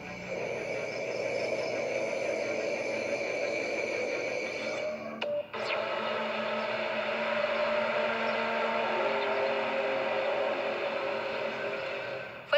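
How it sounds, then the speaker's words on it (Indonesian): A strange trumpet-like drone said to come from the sky, heard as a steady, hissy sustained tone with a brief dropout midway before resuming, fairly faint and without any talking. "Fenomena suara aneh mirip trompet dari langit terjadi di berbagai belahan dunia."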